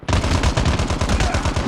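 Rapid machine gun fire from the video game COD Mobile, a single loud sustained burst of evenly spaced shots fired in quick rhythm, close and alone without talk.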